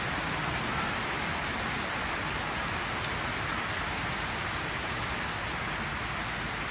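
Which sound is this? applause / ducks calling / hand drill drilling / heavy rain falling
heavy rain falling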